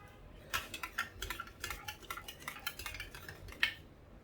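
A spoon rapidly clinks and scrapes against a bowl while salted buttermilk made from curd is stirred, a quick irregular rattle of close, bright taps with no talking.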